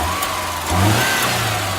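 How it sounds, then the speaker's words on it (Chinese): A car engine, checked for noises after a belt replacement, idles and then revs up briefly as the accelerator is pressed, a close, steady mid-pitched hum that swells and settles back. "然后呢我们把它顶进油门"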